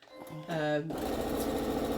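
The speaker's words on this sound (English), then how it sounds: "I'm going back over to the sewing machine" A sewing machine stitches half square triangles for a Split Ohio Star quilt block, a steady close mechanical whir running continuously after a brief voiced moment at the start.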